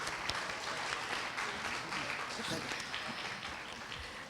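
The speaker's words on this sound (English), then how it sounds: "So give yourselves a great, good round of applause." Audience applause fills the hall at a Bharatanatyam arangetram, a dense, steady wash of many hands clapping throughout with voices faintly underneath.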